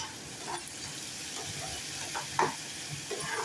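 Barnyard millet upma mixture being stirred in a pan as it thickens, a soft scraping and stirring with a faint sizzle under steady background hiss, with a few brief knocks of the spoon.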